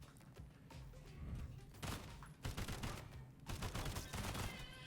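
Gunfire in the Sulfur video game, rapid bursts of shots aimed at an explosive, loud and close in clustered volleys.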